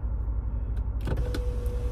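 A car's electric sunroof starts opening in a parked car in The Villages: a thin, steady motor whine sets in after a soft click over the low interior hum.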